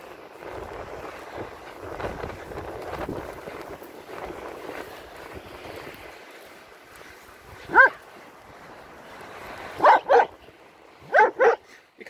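A dog barks on a beach at Skegness on a calm morning, giving one bark, then a quick double bark and another pair, fairly close, over soft wind and surf noise.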